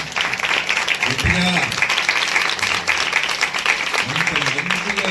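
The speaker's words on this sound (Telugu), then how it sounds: "ఒకసారి అందరూ దావిద్కి క్లాప్ కొట్టండి" The congregation at a church anniversary program claps for a man named David. The steady clapping fills the whole stretch, and a voice briefly speaks over it a couple of times.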